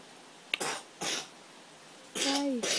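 A child coughs quietly at night in a home, three short soft bursts spaced apart, the last one mixed with a brief high vocal sound.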